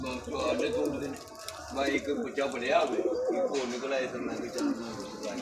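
Pigeons, a pearl-marked fancy breed, coo repeatedly at close range in a rolling, overlapping rhythm, with someone talking over much of the cooing.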